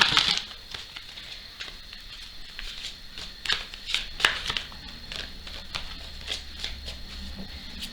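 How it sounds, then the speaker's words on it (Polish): Tarot cards being shuffled by hand, a run of soft riffling and slapping bursts of papery card noise close to the microphone, with quieter gaps between shuffles and no talk. "więc będziemy teraz je tasować"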